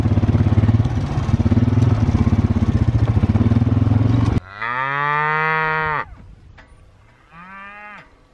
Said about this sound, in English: There are a bunch of cows and bulls mixed in over here.